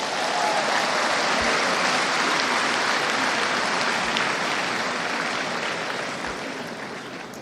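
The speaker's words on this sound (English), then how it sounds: "Please give yourself a resounding round of applause." Resounding audience applause at the 53rd annual accountants' conference, a broad continuous wash of many hands clapping that holds steady and then begins to fade toward the end.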